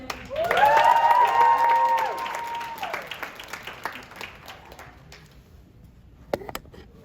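Audience applause and cheering for the Puso Foundation at the FAM Pageant 2022, a loud burst of clapping from a crowd that swells, holds for about two seconds, then thins to scattered claps and fades.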